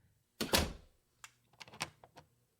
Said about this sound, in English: Reverend Phelps just locked the bedroom door and he slipped the key into his pocket.